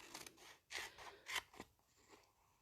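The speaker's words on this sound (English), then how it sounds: "I just find it so easy just to grab your scissors and cut that bit out" Scissors snipping through glimmer paper trimmed for a sticker sheet, a few quick close blade closures and crunchy cuts in an uneven rhythm, faint and alone.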